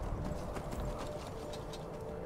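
Horse hooves clop steadily in Skyrim, the fantasy role-playing game, a quick regular rhythm of soft thuds over a low outdoor ambience, with no talking.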